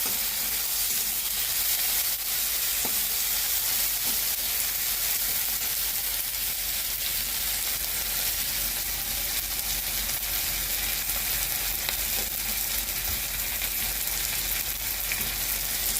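Ginger frying in a pan gives off a loud, continuous sizzle with crackling spatter, holding steady and close throughout with no voices.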